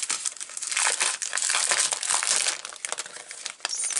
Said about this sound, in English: Pull the sticker sheet out.